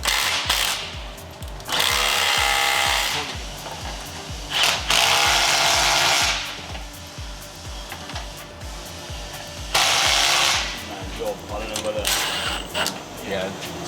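A ratchet clicks in quick bursts while tightening exhaust clamps on a ZZP exhaust for a Cadillac ATS-V. Several loud, rapid runs of ratcheting are separated by short pauses, close to the listener.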